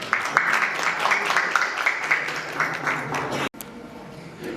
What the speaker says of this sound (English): Please just welcome the judges with Honorable Rishi Ji and Principal Sir with a big round of applause.